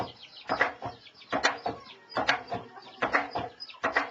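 Birds call in short, repeated bursts in Dhuruwa village, faint and clucking, with brief pauses between the calls.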